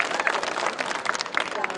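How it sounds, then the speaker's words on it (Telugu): Crowd applauding at a public political event, a dense patter of many hands clapping at moderate distance, brief and fairly steady. "గట్టిగా చప్పట్లు కొట్టాలి."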